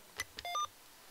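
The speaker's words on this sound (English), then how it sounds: "A single beep will store it." A Mr. Rags macro keyer gives a single short electronic beep, faint and isolated against a quiet background, with a few soft clicks around it.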